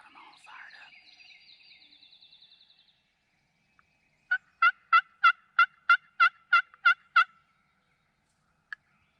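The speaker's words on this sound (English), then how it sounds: "There was a lot of gobbling to start the morning." Wild turkeys gobble in the morning woods, a long rolling call first, then a quick run of about nine sharp, evenly spaced gobbling bursts from a bird fairly close by, ending in one brief faint note.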